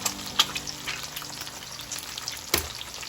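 A goose egg cracked into a hot frying pan, with a steady faint sizzle of frying throughout and a couple of sharper cracking clicks, one near the start and one louder near the end.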